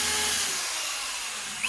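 Drilling holes in wooden A-boards being made in a workshop: a steady, fairly loud broadband whir of a drill running continuously, with a brief sharper squeal near the end as the bit works through the wood, no voices.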